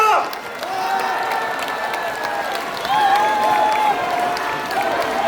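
Sustained applause and cheering from a large crowd at a Korean People Power Party rally in the Chungcheong–Honam region, a steady dense roar of clapping with shouts rising above it throughout.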